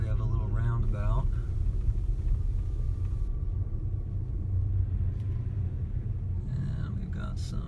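A Tesla Model S P85D climbs a snowy hill, producing a continuous low road rumble close by with faint tire and wind noise; a voice speaks briefly at the start.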